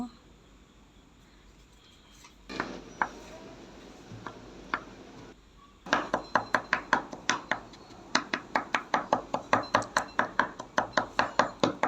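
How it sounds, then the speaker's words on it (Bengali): A knife chopping tomato on a board for fish curry, a few scattered cuts at first, then a steady fast run of sharp, close knocks, with no speech. "এখন এটা আমি একটু চপ করে নেব"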